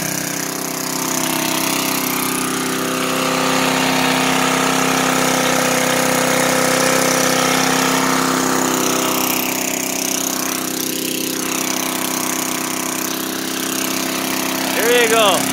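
A 1970s John Deere 4.5 horsepower lawn mower engine runs at a steady, loud idle throughout, with a brief rise near the end.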